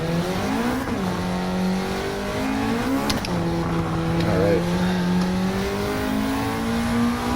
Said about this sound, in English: let me shut up and get into actually driving this thing.